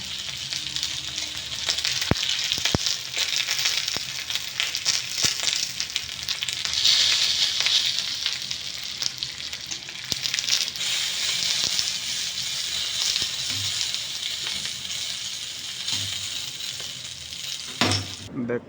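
Food frying for pakhala sizzles steadily in a pan at close range, with stirring and scraping running through the whole stretch and a few sharper clanks along the way.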